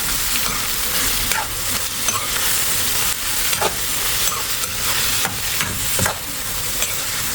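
Eggplant frying with shrimp paste sizzles steadily in a pan while a utensil stirs and scrapes, giving periodic clacks over the loud hiss, up close.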